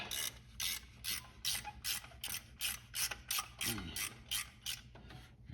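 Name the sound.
loosening a bolt on a 1969 Buick Skylark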